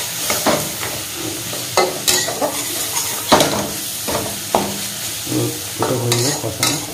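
Rohu fish masala sautés in a pan, a steady sizzle broken by repeated scraping strokes of a spatula stirring the spices, close and fairly loud with no talking.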